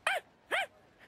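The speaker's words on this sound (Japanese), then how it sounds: "君はここの屋台の犬なのかな。" A dog at a festival food stall gives two short, bright barks or yips close by, about half a second apart, followed by a faint third whimper.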